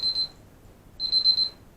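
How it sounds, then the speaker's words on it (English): A mobile phone alert sounds twice, two steady electronic beep tones about a second apart, close and clear in a quiet room with no talking. "that is my phone telling me to shut up because I'm going to get cut off"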